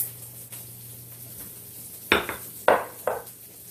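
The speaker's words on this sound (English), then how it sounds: "And we're going to mix it up." A utensil scrapes and clanks against a bowl while cheese and liquid ingredients are mixed into muffin batter for sausage and cheese breakfast muffins; three distinct knocking strokes land over a quiet background hum.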